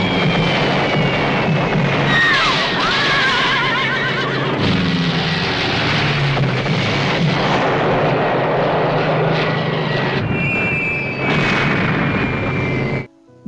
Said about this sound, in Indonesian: Namun jelas kekuatan udara lebih unggul hingga mereka menjatuhkan bom dan membuat keadaan semakin kacau balau.